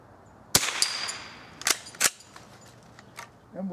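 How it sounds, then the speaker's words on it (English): An old .22 rifle fires at a swinging target, giving about three sharp, dry cracks spaced irregularly over a few seconds, moderately loud above a quiet outdoor background. "Now we'll shoot that swinging target again."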